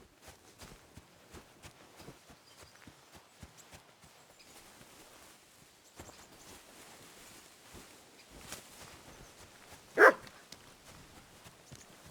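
Quiet, busy game ambience with soft steps and thuds builds until a single sharp dog bark rings out near the end, from Kingdom Come Deliverance 2's medieval world.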